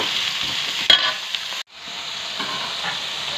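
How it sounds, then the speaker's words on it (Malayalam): Sliced onions stirred into hot oil sizzle in a steady, close hiss, with a brief clatter near the start and a short dip in the sound before the frying resumes, no talking. "അതിലേക്ക് അരിഞ്ഞു വെച്ചിരിക്കുന്ന സവാള ചേർത്ത് ഒന്ന് ഇളക്കി കൊടുക്കാം"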